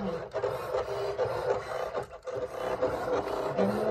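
A Silhouette cutting machine cuts a printed sheet with a continuous mechanical whir, rubbing and scraping and brief carriage pauses, close and fairly quiet.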